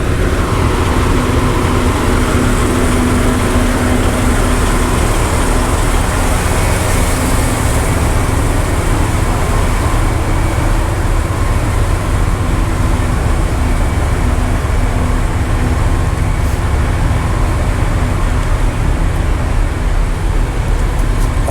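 At the Iowa 80 truck stop, trucks rumble past in a loud, dense, continuous wash of heavy engine and road noise that stays steady throughout without any talk.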